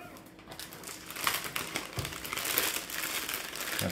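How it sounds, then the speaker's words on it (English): A plastic bag is folded down over the end of a rotary cheese grater, giving close, steady crinkling and rustling throughout with no talking. "Kind of fold the bag down a little bit like that."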